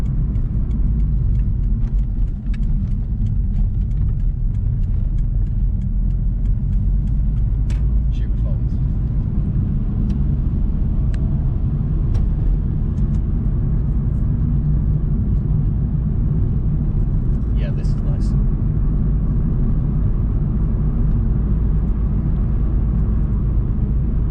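Mitsubishi FTO car driving on the road, a steady loud low engine and road rumble throughout with occasional faint ticks and clicks, people talking inside the cabin over it.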